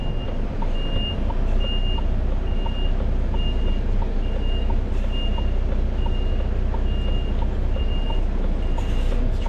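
A delivery truck backing up toward a curb, its reversing alarm beeping steadily at an even pace over a loud, continuous diesel engine rumble.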